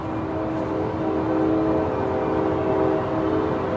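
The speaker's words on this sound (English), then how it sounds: "Gosh darn a train!" A train passes steadily nearby, a continuous loud rumble with sustained horn-like tones running throughout, outdoors near a lake during wakeboarding.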